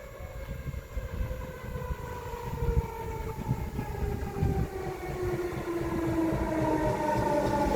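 Trains at Guntramsdorf-Thallern in Austria rumble past, with a steady low roll and several long horn tones sliding slowly downward as they sound across the whole stretch, loud and close.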